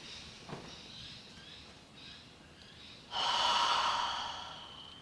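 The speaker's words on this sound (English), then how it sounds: "take a deep breath" One person takes a slow, deep breath during an EFT tapping session, with faint airflow at first and then a strong, close inhalation swelling in and fading out, with no talking.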